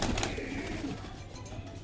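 Napta pigeons in a loft give soft, low cooing at close range over steady room noise. There is no talk over it.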